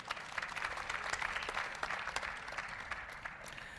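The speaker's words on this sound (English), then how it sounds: "Are we able to give ourselves a massive round of applause" A conference audience at an annual budget dialogue event gives a round of applause, dense clapping at moderate distance that holds steady and then thins slightly toward the end.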